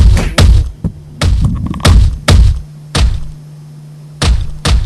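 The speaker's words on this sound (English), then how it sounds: "That was probably just the water softener." A household water softener thumps in loud, heavy repeated knocks, about seven dull blows at irregular intervals, close by and over a low steady hum.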